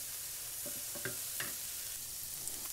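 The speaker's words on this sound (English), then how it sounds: "hopefully we can get some of that nice bacon fat for when we fry the leeks." Leeks fry gently in rendered bacon fat for a leek and bacon quiche, a soft, quiet sizzle with a few light scrapes as they are stirred and separated, no voices.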